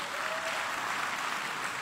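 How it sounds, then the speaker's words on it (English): Audience applause at a #ThisGeneration2019 talk event, a brief, even wash of clapping from a crowd, moderately distant and continuous. "Please, can you clap for my pastor?"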